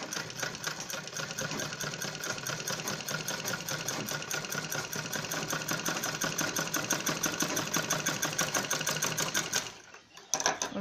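A sewing machine runs steadily and close, its rapid needle clatter sustained for almost ten seconds as a zip is stitched onto a fur cloth bag, then it stops abruptly before a brief restart.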